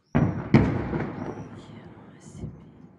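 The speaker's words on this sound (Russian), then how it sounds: "Ага, взрыв." An artillery shell blast rumbles in a border area under shelling, a sharp onset followed by a second heavier boom and long rolling decay, distant and echoing.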